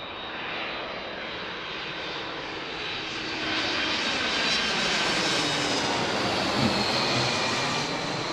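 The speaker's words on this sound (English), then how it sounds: "there's the A300 landing on runway 28 left" An Airbus A300 jet lands on runway 28 left at Pittsburgh International Airport in the evening, a loud sustained broadband engine roar that swells slightly midway, with no talk.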